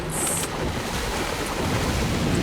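Sea water and waves in a shooter game, a steady broadband wash of surf and wind that stays loud and even for the whole stretch.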